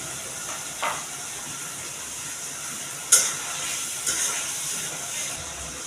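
Cardamom, cinnamon and bay leaves sizzle in hot oil for a chicken roast, a steady faint hiss with a few brief louder crackles, heard alone without talk.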